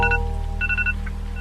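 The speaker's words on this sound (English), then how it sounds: "Oh, that's his phone alarm." A phone alarm beeps in a repeating electronic pattern of short tonal pulses, heard over a steady low hum in a live broadcast studio, with no speech during the tones.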